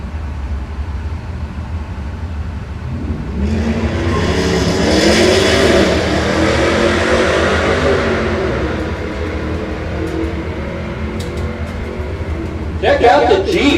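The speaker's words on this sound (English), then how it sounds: "Hot rod Jeep in the right lane." A hot rod Jeep drag racing at Pacific Raceways roars past as its engine noise swells to a loud peak mid-clip and then fades, with an announcer talking over it.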